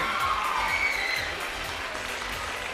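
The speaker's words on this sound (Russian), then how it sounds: "И ваши дружные, добрые, теплые аплодисменты" Dense, steady applause from a seated audience at a gala dance competition concert in Tallinn, many hands clapping at once in a continuous wash close by, with no talk over it.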